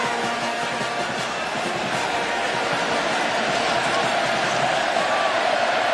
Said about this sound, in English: Home crowd trying to help out the defense again here